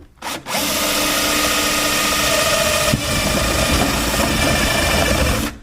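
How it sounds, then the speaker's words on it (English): Power drill boring a hole through aluminum for a custom transmission cooler and fan mount on a 5.0 Mustang, a loud steady whine running for several seconds after a brief start, close up with no talking. "Yeah, that's definitely aluminum. It drills like butter."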